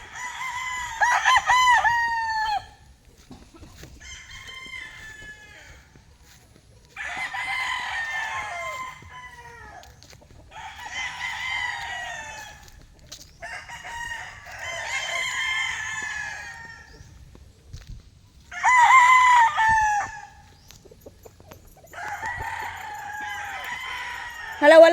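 Roosters crow in repeated loud bursts with clucking between them, several calls close by in an outdoor yard, with a little background talk.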